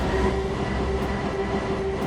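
A train running in Minecraft Transit Railway gives a steady, loud rumble and rolling drone with a faint sustained tone, continuous for about two seconds with no voices.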